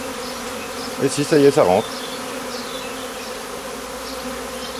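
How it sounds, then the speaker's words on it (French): A honeybee swarm hums in a steady, dense drone throughout as the bees spread out and move into a hive, with someone speaking French briefly over the buzzing. "Les abeilles ont tendance à partir vers l'extérieur, il y en a qui vont vers l'intérieur."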